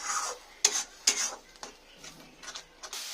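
A utensil scrapes and stirs tomato paste masala in a pan for a mutton dry dish, making several short, distinct scraping strokes at an uneven rhythm, close and fairly quiet.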